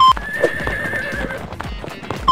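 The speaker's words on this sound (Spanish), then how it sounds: "Me gustaba mucho el caballo de carrera." A horse clip-clops in quick, loud hoofbeats, then gives a whinny, all close by with no talking.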